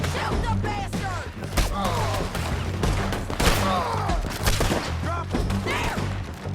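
Rapid gunfire from a Red Dead Redemption 2 firefight, dense bursts of shots and heavy thuds cracking out loudly over several seconds, with voices shouting intermittently among the shots.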